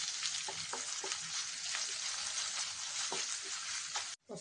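Curry leaves and ginger-garlic paste frying in oil in a pan for tomato rice: a steady, close sizzle with bursts of spitting crackle throughout, briefly cut short near the end, with no talking.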